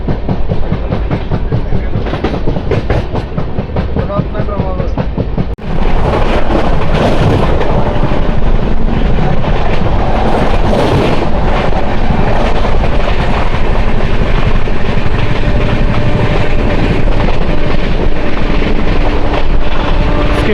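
The Janmabhoomi Superfast Express passes through Pithapuram railway station without stopping, its loud steady rumble and rhythmic wheel clatter intensifying sharply a few seconds in and staying close.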